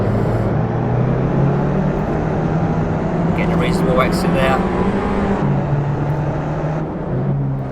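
Racing car engine in the Assetto Corsa video game, heard braking and accelerating as revs rise and fall in a steady drone, with someone talking over it throughout.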